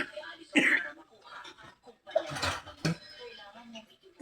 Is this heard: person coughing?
yes